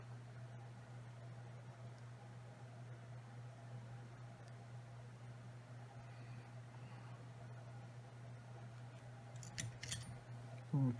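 Scissors trim fly-tying material at a tying bench in a few quick, faint snips near the end, over a steady low hum.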